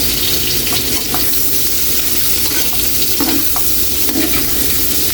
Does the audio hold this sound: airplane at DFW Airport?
no